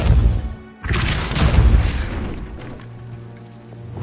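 A Depulso spell from Hogwarts Legacy hits with a loud booming burst, a brief gap, then a second heavy crashing impact that rumbles and fades into a low sustained tone.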